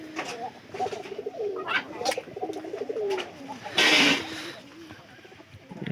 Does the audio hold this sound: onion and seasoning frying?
no